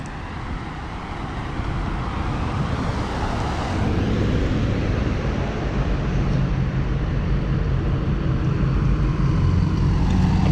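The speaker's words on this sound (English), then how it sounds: "Avoiding cars and traffic can be a bit tricky here in Mexico at times." Street traffic rumbles past in Mexico, a steady wash of car noise that swells slightly partway through and stays loud and continuous throughout.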